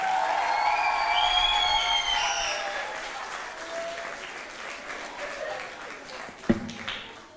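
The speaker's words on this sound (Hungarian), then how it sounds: "Boric Gergő, most jön az a sikítós taps!" An audience at a music school event in Kiskunhalas claps and cheers, with high shrieks and whoops over steady applause that gradually dies down, followed by a sharp knock.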